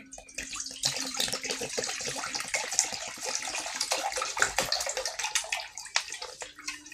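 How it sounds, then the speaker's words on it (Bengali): Milk poured into a pan for rasmalai malai, a continuous splashing, trickling stream close to the mic, steady for several seconds with small gurgles, no talking. "এর জন্য আমি এখানে দুধ দিয়ে দিচ্ছি"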